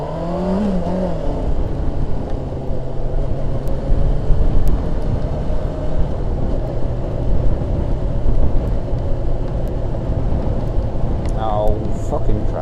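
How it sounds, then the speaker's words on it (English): Road traffic streams past a motorbike rider, a continuous loud roar of engines and wind with rising and falling revs and a brief higher whine near the end. "Oh, fucking traffic."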